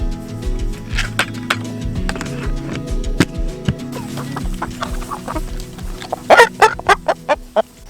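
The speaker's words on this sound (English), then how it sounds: "Good morning, chickens." Farm chickens cluck and chatter at morning feeding time with a young rooster among them, close-up bursts of clucks and squawks over low rumbling, busier toward the end.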